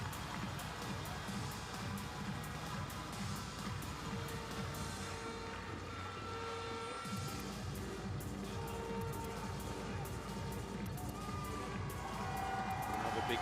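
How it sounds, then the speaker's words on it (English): Handball fans at the Women's EHF EURO 2014 final, Norway against Spain, cheer steadily in a large arena. The roar carries under continuous commentary and swells again near the end. "Another big cheer goes up as another Norwegian appears"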